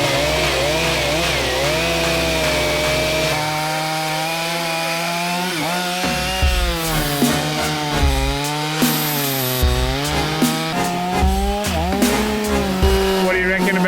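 A chainsaw cuts through a fallen tree trunk while clearing an overgrown track, its engine note rising and falling in pitch as it bogs into the wood and revs back up, loud and close.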